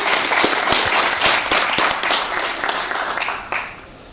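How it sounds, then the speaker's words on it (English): An audience at a plenary session of a global forum applauds a prize winner, dense clapping from many hands with individual sharp claps standing out, close and steady before tapering off toward the end. "Come on, an applause for the lady."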